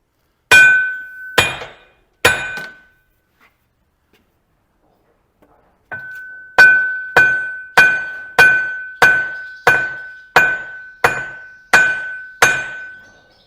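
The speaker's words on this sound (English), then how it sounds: "Gentle tap." Hammer tapping on a Fendt tractor rear axle while a seal is being replaced: ringing metallic strikes, three at first, then a pause, then a steady run of about ten evenly spaced clanging blows, loud and close.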